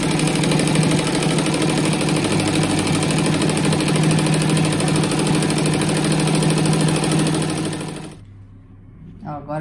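A sewing machine stitches fabric squares for a patchwork rug, its motor running a fast, steady, buzzing whir close by for about eight seconds before stopping abruptly, leaving faint handling sounds.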